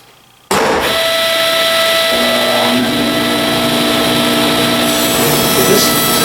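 A power saw recutting a piece of wood starts abruptly and runs loud and steady for several seconds, its whine shifting slightly as the blade moves through the cut.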